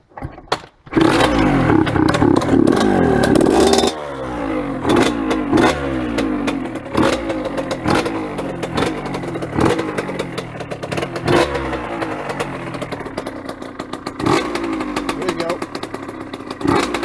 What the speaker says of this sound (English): Starting right up first kick, that was a cold start.